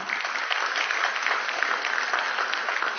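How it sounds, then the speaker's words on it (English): At a college graduation ceremony, an audience gives the graduates a sustained round of applause, an even wash of many hands clapping at a steady level throughout with no speech. "A big round of applause for all of them."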